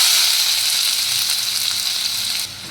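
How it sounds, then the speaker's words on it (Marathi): Chopped onion dropped into hot oil in a kadai while making paneer bhurji gives a loud, close, continuous hiss and sizzle that eases slightly near the end, with no voices. "आता कढईमध्ये तेल तापत ठेवलेलं आहे आणि त्याच्यात आपण कांदा टाकूया"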